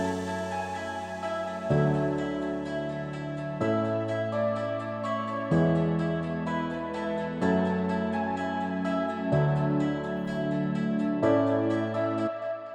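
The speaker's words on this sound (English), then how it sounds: "And of course the new guitar with the piano sounds like this." Guitar and piano parts in a progressive house track, a looping chord progression of plucked guitar and piano notes changing every couple of seconds, steady and moderately loud with no voices.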